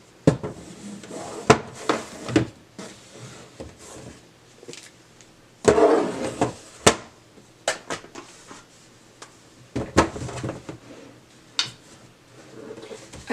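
A drawer slides and bumps shut with several sharp knocks and clatters while makeup palettes are put away, scattered irregular thuds and scrapes close by with quiet handling noise between them.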